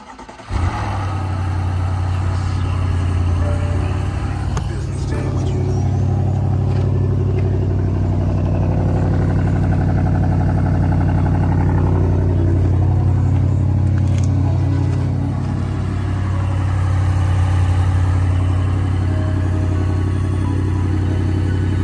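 The engine of a front-end-wrecked 2022 Lexus IS 350 F Sport runs steadily with its air intake parts removed, giving a loud, continuous low drone that barely varies for over twenty seconds, with no talking.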